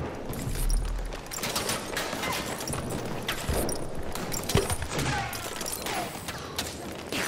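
Battlefield 1 battle with a Villar Perosa machine gun firing: dense bursts of automatic gunfire mixed with distant booms and a constant combat din, moderately loud throughout.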